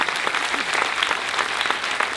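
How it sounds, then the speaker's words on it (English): An audience breaks into steady, dense applause at a university leadership day event, the clapping continuous and fairly loud throughout with no talk over it. "Let's give it a round of applause for the Erasmus Leadership Profile."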